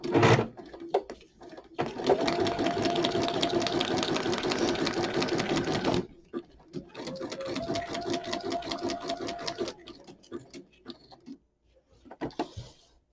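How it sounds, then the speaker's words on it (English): A sewing machine runs a straight stitch through a paper junk-journal tag, giving a loud, steady mechanical whir in two long bursts separated by a brief stop, then trailing off into a few short runs. "I hope that you guys like watching the sewing portion"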